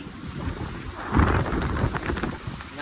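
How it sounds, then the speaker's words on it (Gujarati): Heavy rain pours steadily during a windstorm, and a low thunder rumble swells briefly near the middle. "કાળી વરસાદમાં નાવા ગઈ"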